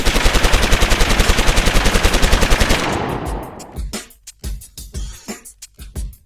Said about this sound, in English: The men empty their guns into Hancock.